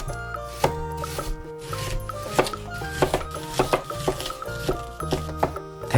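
A knife chops an onion on a cutting board in a row of sharp, evenly spaced cuts, close and clear over soft background music.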